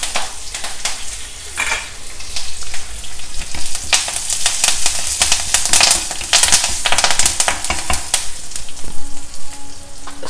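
Green chillies and curry leaves sizzle and crackle in hot oil, a dense, steady frying hiss with sharp pops throughout, close and loud, with no voices.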